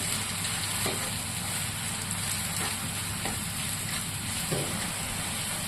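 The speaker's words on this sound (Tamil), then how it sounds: "உப்பு சேர்த்து தக்காளியை நல்லா குழஞ்சி வர வரைக்கும் வதக்கிக்கிறோம்" Tomatoes sauté with salt in a hot pan for a Kerala-style sardine curry, a constant loud sizzle and crackle of frying with occasional stirring knocks and scrapes, and no one speaks.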